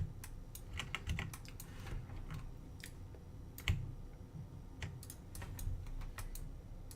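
Steady typing on a computer keyboard during a software development session: rapid, irregular key clicks close up, with occasional heavier strokes and brief pauses, and no talk over it.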